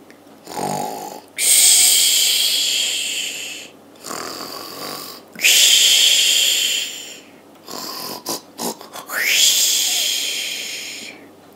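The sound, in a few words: storyteller imitating a wolf snoring loudly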